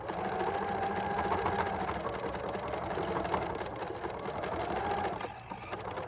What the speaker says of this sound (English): then it's a matter of just sewing it